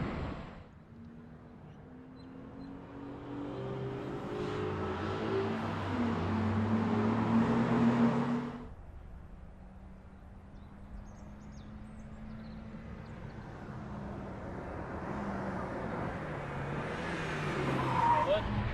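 The engine of a 2013 MINI John Cooper Works GP2 fitted with a CAE Ultra shifter runs and revs, rising in pitch to a louder peak, dropping back, then building again, close and continuous.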